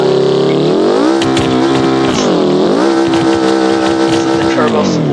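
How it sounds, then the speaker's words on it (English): A vehicle's turbo spools up in the BeamNG Drive driving game while dune bashing, with loud rising and falling whining engine tones that climb repeatedly over a few seconds. "This is the turbo spool up"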